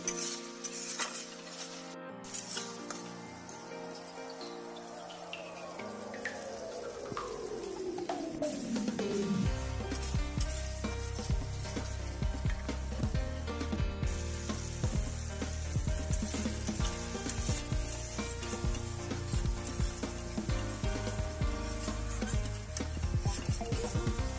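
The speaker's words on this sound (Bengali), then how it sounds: "আমি আর কিছুক্ষণ মশলাটাকে এইভাবে কষাবো" Spice paste with tomato being stir-fried in oil for a snakehead fish korma, a moderate sizzle with scraping and occasional clinks of a utensil against the pan, growing louder and busier after the first few seconds.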